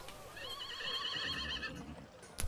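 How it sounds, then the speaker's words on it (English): A horse gives a long, quavering whinny over a quiet tabletop ambience soundscape, followed by a faint shuffle and a brief knock at the end. "Horses."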